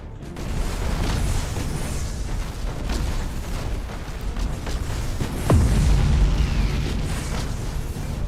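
Plasma bomb detonating in a Warhammer 40,000 game: a deep booming blast with a falling whoosh and heavy low rumble amid ongoing battle noise, loud and close.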